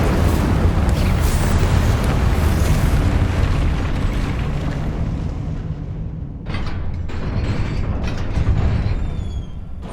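Incendio fire spell cast during Hogwarts Legacy combat on PlayStation 5, a loud sustained rumbling roar of flames and booming bursts that thins slightly toward the end, with scattered crackles and no talk.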